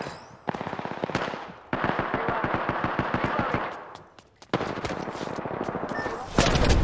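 Automatic weapon fire in the Apex Legends battle royale game, with rapid rhythmic bursts of shots and short pauses between them, loud and close, ending in a heavier blast.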